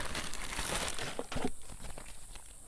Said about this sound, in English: Looks like a Tyvek pouch.